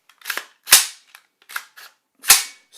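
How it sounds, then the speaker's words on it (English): A pistol fitted with an ambidextrous charging handle is racked several times, giving sharp close metallic clacks and snaps in quick uneven succession, loud and isolated with silence between. "let's just go ahead and see what it feels like charging this pistol now"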